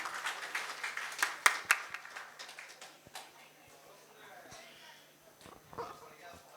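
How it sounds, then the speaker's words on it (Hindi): A small crowd at an award ceremony honouring Prafful Narayan Saxena gives scattered, uneven claps. A few sharp claps land close together early on, then the clapping thins to sporadic taps and fades into near quiet. "हमारे आदरणीय प्रफुल्ल बॉस के लिए जोरदार तालियां उनके परिचय से पहले"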